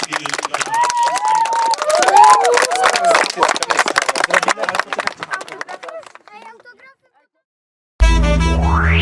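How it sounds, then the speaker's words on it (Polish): Applause for a football coach after a youth training session in Tuliszków: dense, quick clapping from a small group fills the first seconds and thins out, with cheering voices over it, and then music abruptly takes over. "Brawa dla trenera za fajny trening."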